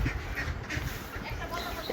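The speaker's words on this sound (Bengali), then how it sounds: "এই যে বাড়ির গেট দিয়ে হাঁসগুলো বের হচ্ছে" Domestic ducks quack steadily as the flock heads out through a house gate toward a pond, the calls close and overlapping against a busy, noisy background.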